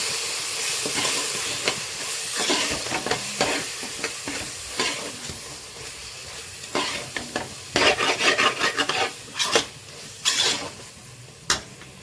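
Spices and chilli are stirred through a hot pan of frying mushroom-egg biryani masala, with a steady sizzle and repeated scraping strokes of a spoon against the pan, getting louder and more clattery in the second half.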